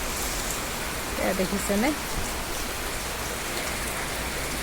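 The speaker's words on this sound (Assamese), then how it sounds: "পূৰা বৰষুণ দি আছে পূৰা জোৰছে বৰষুণ দি আছে" Heavy rain pours down in a village during the wet season, a dense continuous hiss of drops hitting surfaces throughout, with a voice speaking briefly over it.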